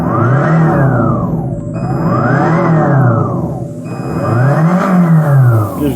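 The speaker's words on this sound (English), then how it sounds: "you sound like a motorcycle." An Eahora M1PS electric bike in its simulated motorcycle sound mode, a synthetic engine tone sweeping up and down three times as the throttle is twisted, loud and close with no talking.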